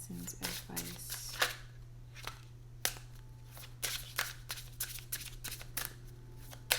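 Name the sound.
tarot cards being shuffled and drawn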